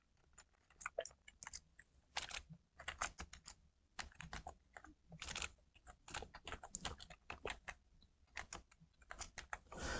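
Keys clatter on a computer keyboard while text is typed into MS Word, quiet close-up clicks in uneven bursts with short pauses between.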